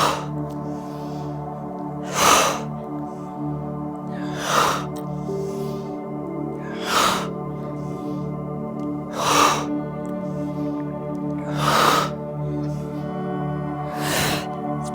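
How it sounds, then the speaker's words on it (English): Yoga breathing, with sharp, forceful breaths repeating steadily about every two and a half seconds over a soft, steady musical drone. "Inhale, exhale."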